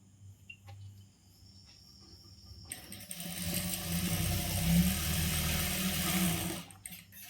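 A sewing machine runs steadily while stitching along the edge of a churidar sleeve, its dense mechanical whirr starting partway through after quieter handling and continuing loud and close until a brief stop at the end.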